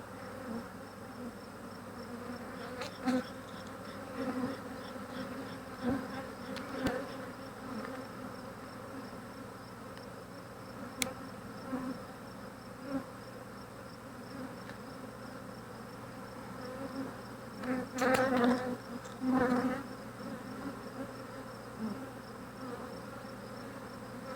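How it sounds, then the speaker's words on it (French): Honeybees buzz steadily in an open Flow Hive during an inspection, a dense close hum with a few louder passes as individual bees fly near, and occasional faint handling sounds. "Une grosse ruche bien en santé."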